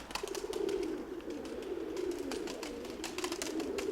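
Pigeons coo in a loft, a low rolling throaty murmur that continues close by throughout, over scattered light clicks and rustling.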